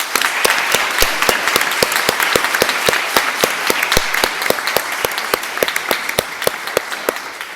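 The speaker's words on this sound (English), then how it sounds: "Now have a round of applause for all our new members." Steady, sustained applause from a large audience at a medical college membership conferral ceremony, dense overlapping hand claps with a few sharper claps standing out, filling the hall evenly throughout.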